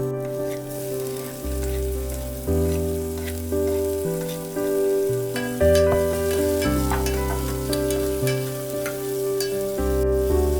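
Onion and tomato fry with a pinch of salt as the base for a spicy mutton rassa curry. A soft, continuous sizzle sits beneath prominent melodic background music with changing notes, and no one speaks.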